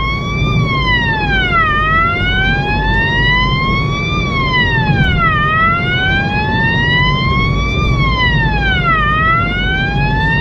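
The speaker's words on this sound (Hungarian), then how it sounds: "meghallja a szirénát" Loud wailing siren of an emergency vehicle in Hungary, rising and falling in long, steady sweeps that run without a break, with a low engine and traffic rumble underneath.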